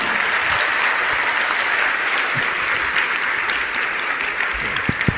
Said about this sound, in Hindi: आपकी ताली नहीं बजी, अच्छे से बजाइए